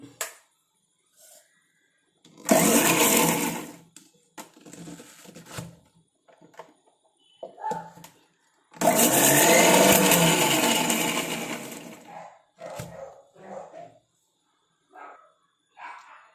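Kitchen mixer grinding herbs for a hair growth remedy, two loud whirring bursts of several seconds each, separated by quieter handling and clinks.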